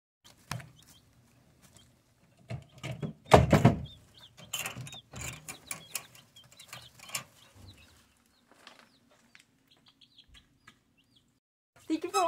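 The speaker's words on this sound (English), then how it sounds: "I have 2 white leghorns, 2 Isa brown, and 4 Easter eggers." White Leghorn, ISA Brown and Easter Egger chicks in a brooder box built from an old dresser give sporadic cheeps, with scattered rustling and thumps between quieter gaps.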